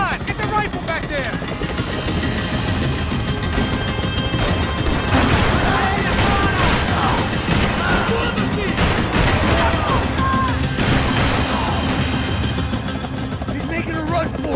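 Gunfire in the video game Max Payne 3 during a helicopter chase, dense and continuous with crashing impacts and a rotor-like drone, mixed with shouting voices throughout.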